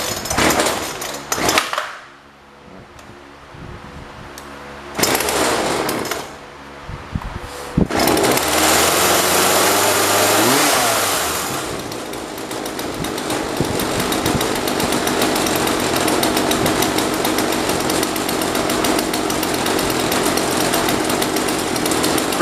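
A Jonsord 2036 Turbo chainsaw, a two-stroke engine just back from carburettor trouble, gets a couple of rough pulls and sputters before catching into a loud, sustained, rattling idle, with one throttle rise and fall.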